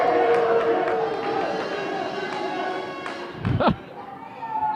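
Loud crowd noise at a keg curling event, a roaring, cheering mass of voices that swells and then eases, with a thud and a brief shout near the end.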